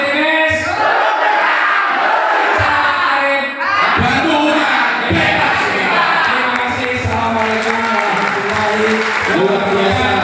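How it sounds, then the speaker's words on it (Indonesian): Audience applause and cheering fill an indoor gathering at a hotel, a dense sustained crowd roar with shouts rising over clapping, with voices calling out throughout. "Tepuk tangan yang luar biasa, Bapak Janis."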